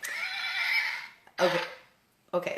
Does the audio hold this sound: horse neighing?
yes